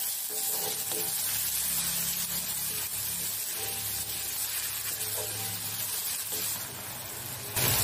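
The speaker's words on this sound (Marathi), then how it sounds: "लगेच आपल्याला कांदा घालायचा आहे आणि कांदा आता सोनेरी कलरचा होईस्तोवर आपल्याला परतवून घ्यायचा आहे।" Onion sizzles and fries in a pan with ginger-garlic paste, a steady close crackling hiss that continues throughout with occasional stirring.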